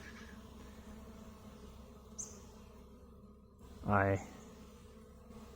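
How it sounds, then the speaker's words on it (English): Bees work Paterson's curse plants in late November, a faint, thin buzz drifting under the quiet outdoor air, with a brief, louder burst passing close by near the end, and someone speaking quietly. "you may be able to hear the bees, of which there are a great many"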